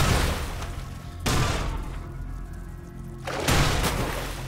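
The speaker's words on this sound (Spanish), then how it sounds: "¿Y si disparo aquí?" Gunfire in the video game The Fall: two sharp, loud broadband blasts about two seconds apart, each ringing out over a steady low game ambience.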